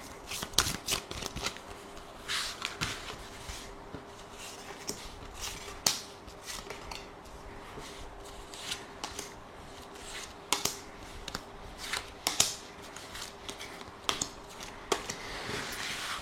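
Oracle cards being shuffled for a reading, with a steady close rustle of riffled cards broken by sharp taps and snaps, over a low constant hum.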